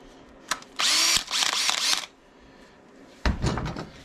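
Power drill boring a hole in the center of a metal part for a Harley-Davidson Sportster clutch tool, two short loud whirring bursts separated by a pause, with a brief click before them.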